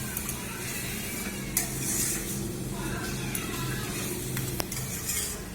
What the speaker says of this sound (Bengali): মাটনটা দিয়ে আমি ভালো করে একটু নেড়ে নেব